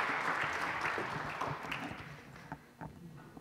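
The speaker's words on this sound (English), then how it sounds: "With your warm applause," Audience applause at a university start-up hub talk, dense clapping that is loud at first, then thins out into scattered claps over the final second.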